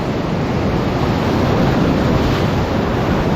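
Class IV whitewater rapids on the Lower Kern River roar in a dense, steady rush heard from a raft, loud and unbroken with wind buffeting the microphone.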